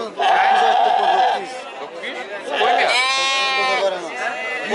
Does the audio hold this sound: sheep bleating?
yes